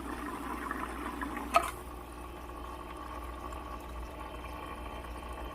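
A Hygger HG052 5-in-1 internal aquarium filter pushes water in a steady, soft, continuous wash with a faint hum, after a brief knock near the start.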